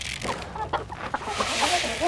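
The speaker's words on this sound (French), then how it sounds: "ce sont des poules qui pondent des œufs verts" Hens that lay green eggs clucking nearby in a quick, irregular series of soft clucks over a steady outdoor background.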